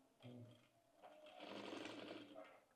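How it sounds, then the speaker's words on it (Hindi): A sewing machine stitching velvet fabric runs in short bursts, a brief whir followed by a longer steady run, close and fairly quiet. "यहाँ से लेके पूरे नीचे तक और यहाँ से लेके पूरे नीचे तक इसमें सिलाई लगा देंगे"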